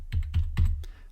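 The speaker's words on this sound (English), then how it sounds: "I'm going to go ahead and type in my email address" Computer keyboard keys tapped while an email address is typed in, about four distinct clicks spaced evenly over roughly a second, close and fairly quiet with no talking.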